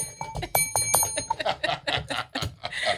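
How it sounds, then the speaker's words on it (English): A bell rings several times in quick, uneven bursts, with some voices and clatter mixed in. "Where's my bell?"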